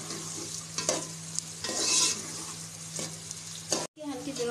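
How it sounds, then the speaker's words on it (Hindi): Onions frying in a pan for anday cholay (egg and chickpea curry), a steady close sizzle with intermittent scraping stir strokes, a brief dropout near the end, and faint talk at the very close. "अब इसमें ये हमने प्याज डाल दी है तो अब हम इसको अच्छी तरीके से भून लेंगे।"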